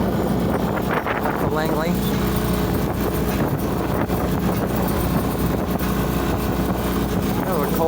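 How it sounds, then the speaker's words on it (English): A sailboat motor-sails on Puget Sound on a cold December day, its engine a steady low drone under heavy wind rumbling across the microphone, while someone talks briefly. "Doing a little motor sailing on my way up to"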